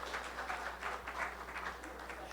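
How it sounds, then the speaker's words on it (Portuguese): Applause from a convention audience as a speaker is welcomed onstage, a steady spread of clapping at moderate level with no talk over it. "Palmas para Alcir Augusto!"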